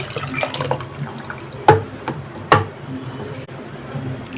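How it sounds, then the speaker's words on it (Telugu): Water is poured into a pot of dal (pappu charu) already mixed with tamarind juice. A soft steady pour is broken by two sharp splashing clinks. "ఇప్పుడు ఈ వాటర్ కూడా పోసేసుకున్నాము పప్పులోకి."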